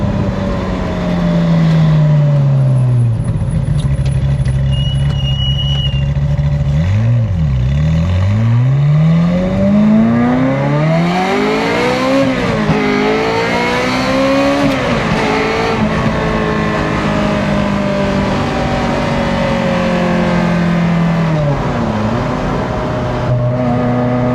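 A Ferrari F355 Challenge-style engine with individual throttle bodies revs and shifts through gears on a road test, its loud, close exhaust note rising and falling repeatedly as it accelerates and slows.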